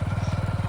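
A motorcycle engine idles close by on a village road, a steady loud rhythmic putter of evenly spaced pulses with no talk over it.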